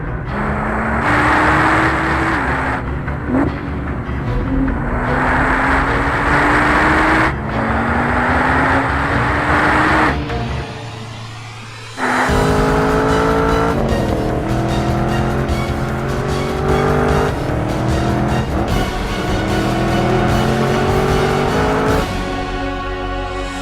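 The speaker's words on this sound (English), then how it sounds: "once the track was dry, it was time for Randy to set some fast laps." A 2014 Nissan GT-R Track Edition laps a dry race track at speed, its engine note climbing loud and close through repeated upshifts, with a brief lull and a short tire squeal before it pulls hard again.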